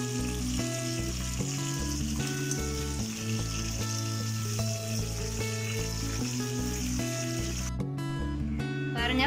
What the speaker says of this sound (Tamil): இதோட நான் கொஞ்சம் கருவேப்பிலையும் ஃப்ரை பண்ணி எடுக்க போகிறேன்.